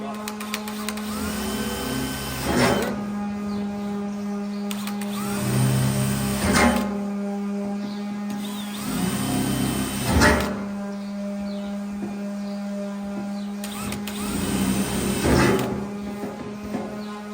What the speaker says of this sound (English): I'm gonna drill a 1/4 inch hole, then drill out to a 1/2 inch hole on all 4 corners